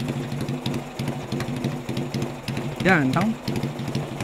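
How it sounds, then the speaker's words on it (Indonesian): A Yamaha XS 650 chopper motorcycle engine idles with a steady, rapid, loping thump close by, while a person speaks briefly over it. "Suaranya adem banget, tapi kalau digeber kelihatan karakter dari XS-nya"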